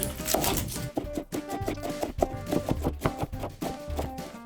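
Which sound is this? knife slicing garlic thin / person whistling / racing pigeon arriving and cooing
knife slicing garlic thin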